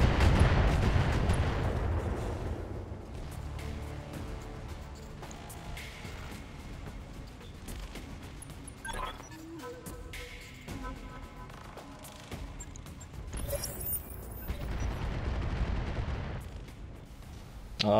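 Long-range missile barrage in the mech combat game BattleTech: a dense, continuous roar of launches and explosions, loud and sustained, with bursts of impacts rising and falling throughout.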